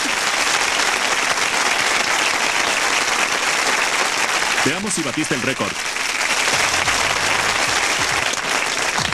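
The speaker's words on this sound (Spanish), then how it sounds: "Demos un aplauso a la relatora de tribunal más veloz del mundo." Dense studio audience applause fills the space for a game-show style rap challenge honoring the fastest court reporter, with a host talking over it midway and music creeping in near the end.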